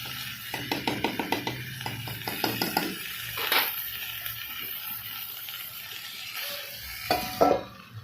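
Bitter gourd being sautéed in a pan over low heat, with a soft sizzle under bursts of quick scraping and stirring strokes, then a few isolated clinks near the end.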